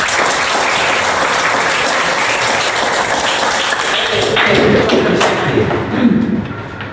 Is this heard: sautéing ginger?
no